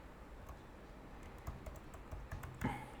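Quiet, close keystrokes on a computer keyboard, short irregular bursts of typing with a couple of louder key taps near the end.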